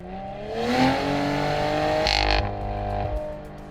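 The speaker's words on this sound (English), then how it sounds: "There's definitely a lot of spool up in those turbos. It's a twin turbo, so you do get a lot of push and a lot of boost" A 2021 Cadillac twin-turbo engine accelerating, a rising roar that builds and spools up, then a deeper boosted surge near the end, heard from inside the car without talk.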